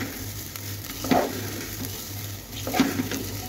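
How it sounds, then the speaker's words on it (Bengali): Food frying in a pressure cooker: a continuous close sizzle with two louder bursts of crackling spatter, likely from stirring, and a low steady hum beneath. "ভাজাটা হয়ে গেছে, আর একটু করব।"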